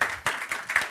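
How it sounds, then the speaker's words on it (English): An audience at a forum in Tallinn breaks into applause, a brief burst of many hands clapping in quick, uneven waves, fairly distant and moderately loud. "Let's give a warm applause."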